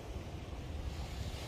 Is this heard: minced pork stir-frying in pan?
no